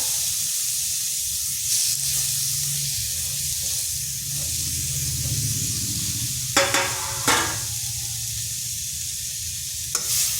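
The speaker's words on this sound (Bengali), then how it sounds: "নারকেলটা হালকা ভেজে নিচ্ছি যাতে তার কাঁচা গন্ধটা চলে যায়।" Grated coconut fries in a wok, giving a steady close sizzle and hiss, with a few loud scraping strokes of a spatula against the pan in the second half.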